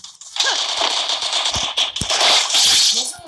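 Gunfire in a video game gives a sharp crack at the start, then several more quick pops and snaps under a busy bright wash of game noise. There is no clear talk.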